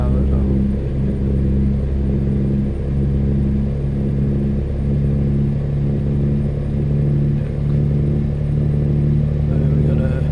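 A steady, low diesel drone from the roughly 500-horsepower engine of a Kenworth K100E cabover truck in American Truck Simulator, hauling a petrol load, droning evenly throughout with a constant rumbling tone.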